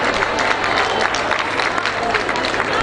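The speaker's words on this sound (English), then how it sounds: "Let's clap hands for the Professor." Crowd applause for a professor at a World AIDS Day 2019 launch event, steady, dense clapping from a large audience at fairly loud level, continuous throughout with faint crowd murmur mixed in.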